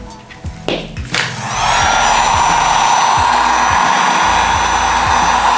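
A heat gun blows on a motorcycle's vinyl wrap: after a few brief knocks and clicks, a loud, steady rushing whoosh starts and holds unbroken to the end.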